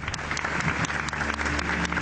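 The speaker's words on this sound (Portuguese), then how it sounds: "Na porta da boate, uma pausa para reflexão e aplausos." A crowd gathered at the door of a nightclub claps in tribute to the fire's victims, a brief, steady round of applause heard up close.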